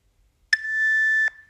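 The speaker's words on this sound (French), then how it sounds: "Au bip pour l'attaque." A single sustained electronic beep from a home workout interval timer rings clearly for under a second, alone against near silence.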